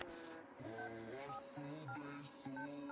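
Someone dials a phone number, a quick series of distinct touch-tone beeps pressed in uneven bursts, each tone short and clear against a quiet background.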